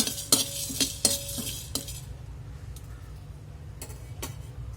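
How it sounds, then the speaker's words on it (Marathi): Whole spices dry-roasting in a pan, a few sharp clinks and scrapes of a spoon stirring in the first two seconds, then quieter faint rustling and occasional taps. "तर सर्व खडे मसाले मी एकत्रच घालून घेते. तर आपण याला भाजून घेणार आहोत."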